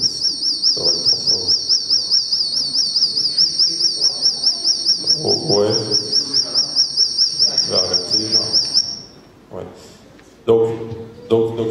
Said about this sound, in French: des sons que je mets pour imiter un peu les chants d'oiseaux